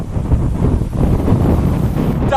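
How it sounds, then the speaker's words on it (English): Loud, steady wind buffeting an outdoor microphone, a continuous low roar with gusty swells throughout, no voices. "It's got a bit windy"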